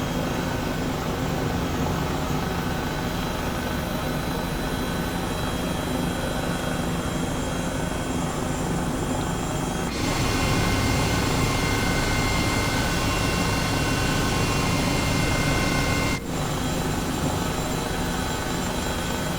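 An H135 helicopter in Microsoft Flight Simulator 2020, flying near Burbank airport: a continuous loud rotor and turbine drone with slight shifts in tone and level, no talking.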